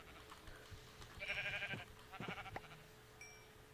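Sheep bleat in a Minecraft-style video game, several wavering calls in quick succession near the middle, moderately loud over a faint background hum.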